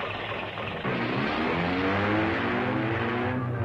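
Cartoon race cars start off with a loud, dense engine roar that surges and climbs in pitch as they accelerate away, filling the whole clip without talk.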